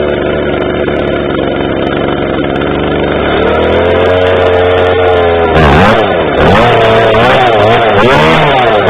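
A Stihl MS 250 chainsaw cold starts and runs loud and close, a rough low idle that picks up and then revs up and down in several throttle blips.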